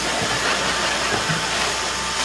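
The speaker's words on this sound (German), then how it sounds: "Du kannst jetzt den Mixer ausmachen" A steady, loud whirring drone runs without pause, like a blender motor spinning at full speed.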